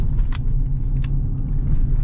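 Steady low rumble from a 2021 Chevy Colorado ZR2 pickup with a 3.6-liter V6 while driving, heard from inside the cab, continuous and fairly loud, with a few faint clicks and rattles on top.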